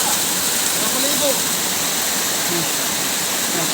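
A forest waterfall on a stream gives a steady, broad roar of rushing water, loud and unbroken throughout, with voices talking faintly beneath it.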